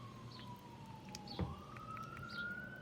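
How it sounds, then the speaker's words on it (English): A police car siren wails faintly in the distance, its tone slowly falling and then rising again, heard steadily through the whole stretch with a soft thump partway through. "Sorry, there's like a police car."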